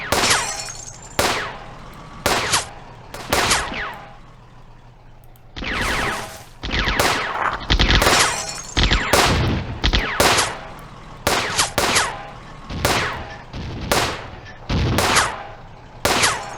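Battle sounds from the WW2 real-time strategy game Firefight: repeated sharp bursts of gunfire and machine-gun volleys, loud and close, spaced irregularly with brief lulls between.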